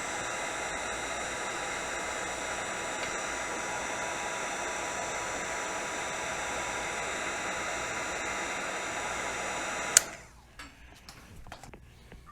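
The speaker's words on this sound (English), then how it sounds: "I've just got a cheap Harbor Freight heat gun to go ahead and shrink that heat shrink" A cheap Harbor Freight heat gun blows a steady, loud broadband whoosh with a faint hum for about ten seconds while shrinking heat shrink tubing, then cuts off abruptly, leaving only quiet handling noise.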